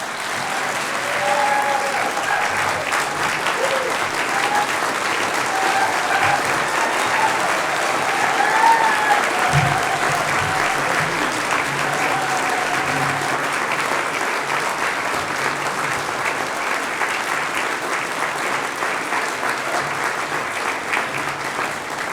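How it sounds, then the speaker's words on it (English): A large audience at an evening honors celebration applauds an honoree, with dense, sustained clapping that holds at an even level for over twenty seconds. "One more round of applause for our honoree tonight, John Echohawk."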